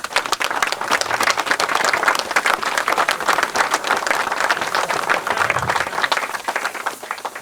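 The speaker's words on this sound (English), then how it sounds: "I'd ask you to give them all a round of applause." An audience at the North Norfolk Railway relaunch event for locomotive 1744 gives sustained, dense applause, with many hands clapping steadily throughout.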